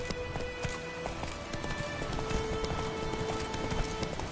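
Roach, Geralt's horse in The Witcher 3, galloping hard with a rapid, rhythmic clatter of hooves, close and steady throughout, with faint game ambience underneath.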